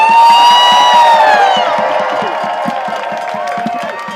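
Crowd cheering, whooping and clapping at an outdoor protest rally against ICE in Minneapolis, loud and dense at first, then easing to steady rhythmic clapping with shouts scattered through the crowd.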